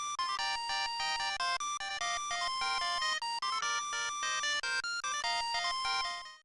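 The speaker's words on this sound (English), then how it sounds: "But the Japanese version got an exclusive MGS theme chiptune ringtone" A Japanese-exclusive Metal Gear Solid theme chiptune ringtone from Metal Gear Solid 2 plays alone, with bright, steady electronic square-wave melody lines and a rapid pulsing rhythm, loud and continuous before fading out at the end.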